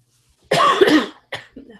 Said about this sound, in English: I'm just coughing over here.